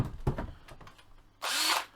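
A DeWalt power drill used while fixing a Stratocaster guitar's faulty pickup switch whirs in one short, loud burst after a few quiet handling knocks and clicks.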